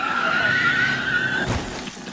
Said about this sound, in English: That was the sound of the Ford Expedition crashing into the pursuing patrol car.